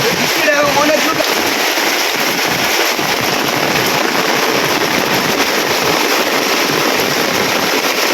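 Heavy rain pours in a loud, steady, dense hiss that holds unbroken from start to finish.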